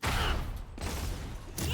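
Ultimate ability explosion from the Valorant video game, a loud broadband blast with crackling, fusillade-like bursts that rolls on for under two seconds, renewing at the start and end.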